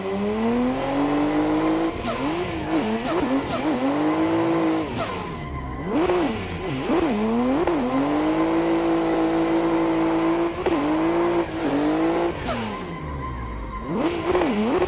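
A car drifting around city streets in a racing video game, engine revving and falling in wavering sweeps with tire squeal, loud and continuous across the whole stretch.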